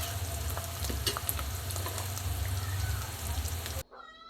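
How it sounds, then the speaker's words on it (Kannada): Peanuts and roasted gram fry and get stirred in a hot pan, a steady close sizzle broken by scraping stirs, stopping abruptly near the end. "ಶೇಂಗಾ ಬೀಜ ಮತ್ತು ಪುಟಾಣಿ ಬೀಜ ಅವೆರಡನ್ನೂ ಕೂಡ ಹಾಕಿ ಸರಿಯಾಗಿ ಬಾಡಿಸಿ ಅವು ಕೂಡ ಸ್ವಲ್ಪ ಹುರಿಬೇಕು"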